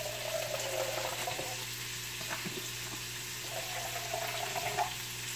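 Water pours steadily into a soup pot of Spanish white bean soup with beans and collard greens, a continuous rushing splash of moderate loudness with no talking.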